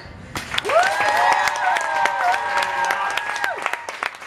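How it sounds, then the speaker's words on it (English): An audience at a horse show at the Kentucky Horse Park claps in scattered, moderate applause, with a sustained high whooping or whistling tone over the clapping for about three seconds. "I need more clapping"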